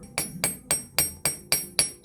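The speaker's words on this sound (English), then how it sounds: "So we're going to hammer it." Seven sharp metallic taps of a jewelry hammer on pure silver, evenly spaced and close, each ringing briefly before the next.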